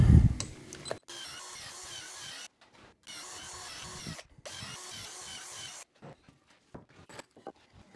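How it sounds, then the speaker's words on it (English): A power drill bores pilot holes into a wooden frame for a raised garden bed in three steady bursts of whirring, separated by short pauses, followed by clattering handling noises. "Okay, so I'll pre-drill those holes and we'll put this frame together."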